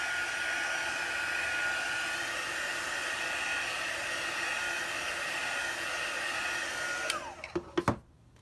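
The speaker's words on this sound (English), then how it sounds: "Let me dry this real quick just in case I touch." A hair dryer drying chalk paste on a Chalk Couture winter woodland craft project, a steady loud whooshing blow that cuts off near the end with a few clicks and knocks.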